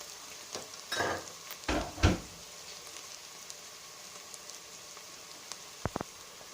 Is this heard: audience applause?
no